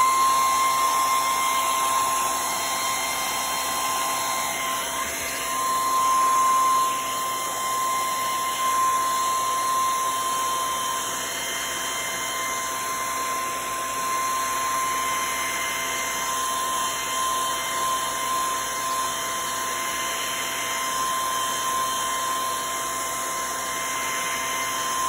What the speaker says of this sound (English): I will cheat and use the blow dryer.